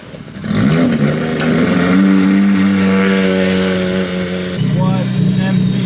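Classic cars pull away at Monterey Car Week, a loud close engine drone that rises as a black car and a white car head out first, the pitch holding and climbing while a voice talks over it.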